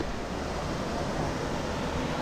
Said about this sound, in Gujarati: અવાજ જે આવે છે ને પાણીનો, ખાડ ખાડ ખાડ ખાડ, બહુ જોરદાર અવાજ આવે છે